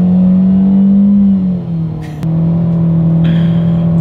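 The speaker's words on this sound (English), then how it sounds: "Let's do a quick little acceleration test in the 2020 Spark" A 2020 Chevrolet Spark economy car with a CVT accelerates hard, its engine holding a steady loud drone that dips briefly mid-pull before resuming at a near, constant pitch.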